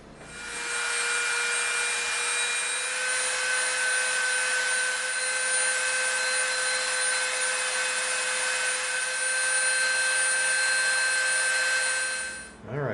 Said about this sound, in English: we're going to slightly round these edges off with the Dremel